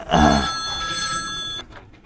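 An old-style telephone bell rings loudly and close in a Hindi comedy film scene, a single sustained metallic trill lasting about a second and a half before cutting off.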